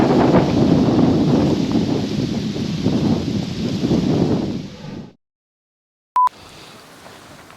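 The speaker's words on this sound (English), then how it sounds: "Effing wind." Wind buffets a microphone outdoors on a scenic byway, a loud rough rumble that gusts steadily for about five seconds and then drops away to near silence, followed by a brief tone and faint background noise.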